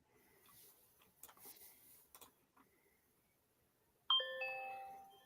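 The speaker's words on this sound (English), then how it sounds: "Every time I hear your buzzer, I think that my doorbell just rang." A draft pick buzzer: a bright electronic chime rings out once near the end, its tones ringing on and fading slowly after some faint background clatter.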